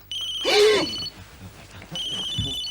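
A mobile phone rings twice with an electronic tone, separated by a short gap, and a brief human sound is audible between the rings.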